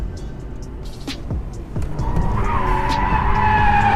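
A Mazda RX8 drifting: sharp tire squeals and skidding over a rising engine roar, with a few brief screeches early on giving way to a sustained whine as the car slides.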